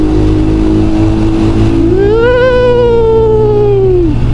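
Two motorbikes ride through a long tunnel beneath a large mountain on the road from Sost to Attabad Lake, a loud engine drone rising in pitch midway as one revs and accelerates, echoing steadily throughout.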